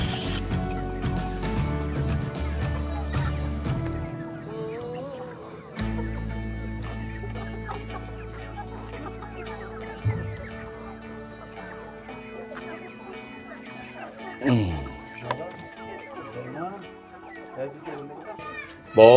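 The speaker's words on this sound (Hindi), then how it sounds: "ये है देसी मुर्गियां" Desi hens cluck repeatedly at close range in a village yard, and children's voices can be heard in the background.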